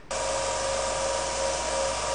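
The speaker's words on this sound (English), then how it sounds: "We want the edge to be a little bit smoother than this, so let's sand it down." A power sander grinds the cut edge of a spoon ring with a steady, loud, continuous whine that starts abruptly and holds without a break.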